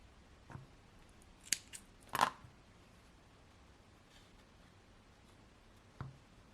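Scissors snipping yarn close by, a few quick quiet cuts with short sharp clicks spread over several seconds, otherwise near silence.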